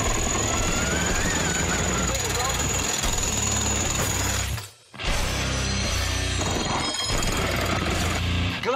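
A machine hammer in a video game smashes through reinforced glass: loud, dense mechanical pounding and crashing that runs continuously, breaks off briefly into near silence, then resumes with the same heavy hammering.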